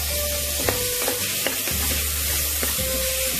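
Tomato frying in masala for chicken mandi biryani, a steady loud sizzle filling the whole stretch, with a handful of sharp scraping and clinking stirs from a spoon in the pan.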